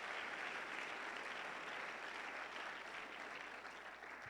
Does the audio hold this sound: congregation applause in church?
yes